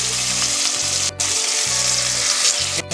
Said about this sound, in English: So I'm going to set those down in the oil.